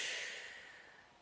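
A soft, airy exhale during a floor-based neck and shoulder mobility stretch, quiet and close, a breathy rush that gradually tapers off with no talking.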